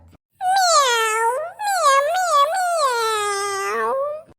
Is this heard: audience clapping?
no